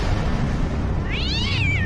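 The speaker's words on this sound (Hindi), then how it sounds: "बिस्तर पर मिसेस कौशिक की बिल्ली घूम रही थी।" A cat gives a single drawn-out meow, rising and then falling in pitch, close and clear over a constant background hiss, with no talking.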